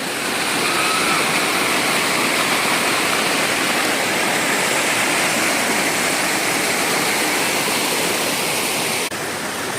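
A steady, loud roar of Hogenakkal Falls fills the whole stretch, a constant close rush with no pauses.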